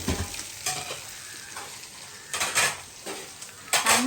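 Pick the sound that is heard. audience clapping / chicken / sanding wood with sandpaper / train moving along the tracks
chicken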